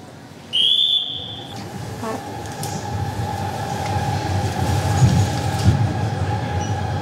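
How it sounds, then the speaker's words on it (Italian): The Vigezzina Centovalli, an international narrow-gauge train through the Val Vigezzo, gives a brief high whistle and then rolls steadily along with a continuous rumble, wheel clatter and faint squeal, loud and near. "Questo treno si chiama Vigezzina Centovalli."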